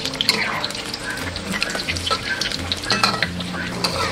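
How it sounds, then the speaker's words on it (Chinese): Tofu deep-fries in hot oil over medium-high heat, giving a dense, continuous sizzle and crackle with occasional stirring and clinking, close and steady throughout. "炸豆腐一定要用高油温炸，而且要保持中大火，只要把它表面炸金黄就可以了"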